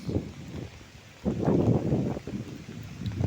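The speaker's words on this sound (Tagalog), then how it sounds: "Ang lakas ng agos guys." Rushing water of a strong stream current at Kawali Falls churns in a steady, loud roar that swells about a second in, with gusty rumble like wind on the microphone.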